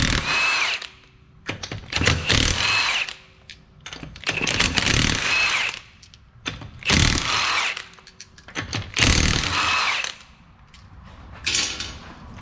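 An impact power tool spins off a car wheel's five 19mm lug nuts in a series of loud, close, rattling whirring bursts, each a second or two long, separated by brief quiet gaps.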